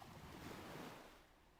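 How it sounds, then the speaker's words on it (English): Ocean waves wash onto a beach in the video game Drawn to Life, a soft, steady surf rush that swells and then fades slightly, heard alone and fairly quiet. "the ocean's too loud"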